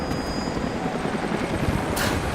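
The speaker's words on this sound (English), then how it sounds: "Jacob, helicopters are headed your way." A helicopter in the video game Rise of the Tomb Raider closes in, its loud steady rotor thrum and engine roar filling the scene without a break, with no voices over it.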